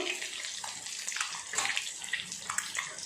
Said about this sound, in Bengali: ডিমগুলো একটু লাল লাল করে ভেজে নেব।